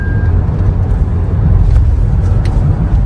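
Car cruising along the Mumbai–Pune highway stretch in Maharashtra, a steady low road and engine rumble with constant tyre noise, loud and continuous throughout, no talking.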